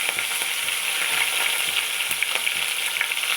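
Green chillies and tempering spices fry in hot ghee with a loud, close, bright sizzle, punctuated by soft, regular stirring knocks against the pan.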